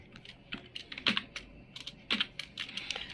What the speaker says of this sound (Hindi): तो हम ए दबाते हैं स्क्रीन के अंदर।